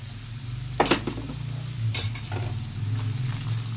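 Crushed spices and chopped mustard stalks are stirred in a frying pan for a pickle: two loud, close scraping sweeps over a steady sizzle and a low background hum, with no speech.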